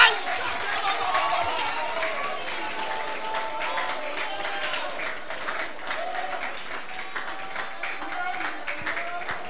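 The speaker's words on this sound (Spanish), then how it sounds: "Del aplauso fuerte." Congregational applause at a bilingual Spanish-French church service in Bonaire: a dense, sustained crowd of hands clapping through the whole stretch, with voices and chatter mixed in underneath.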